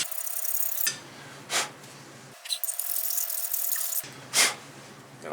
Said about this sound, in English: I try to keep the file flat against these edges on the inside here